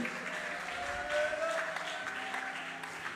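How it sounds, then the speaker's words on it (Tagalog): Congregation clapping together during a church worship service, a steady, dense sheet of applause that holds at even loudness throughout, with a faint tonal hum beneath. "Palakpakan natin ang malakas na palakpakang malapay"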